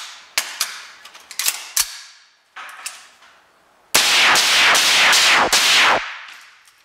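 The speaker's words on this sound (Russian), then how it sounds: "сейчас я на стрельбище перемещусь и сделаю несколько выстрелов" Small-calibre .22LR gunshots from a Mossberg MMR carbine fitted with a 5.56-to-.22LR conversion crack out sharply at a shooting range, first a scattered handful, then a brief pause and a rapid string of shots fired one after another.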